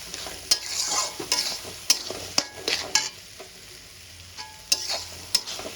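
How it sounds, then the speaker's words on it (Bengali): Spices frying in a pan with garlic and green chili paste and melting tomato, a spatula scraping and tapping in irregular strokes over a steady close sizzle, and no one speaking. "এবার আমি সবগুলো মশলা খুব ভালো করে ভেজে নেব, কাঁচা গন্ধ চলে যাওয়া পর্যন্ত"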